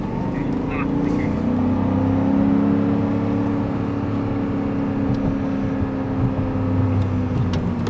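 A BMW M5 moves in second gear around a coned driving course, its engine a steady, loud drone throughout, with a voice talking over it.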